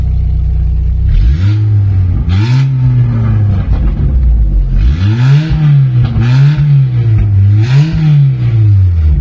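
A Volkswagen Golf engine with a newly installed exhaust diffuser starts up and revs repeatedly, loud close-up rises and falls in pitch with a brief idle dip between bursts.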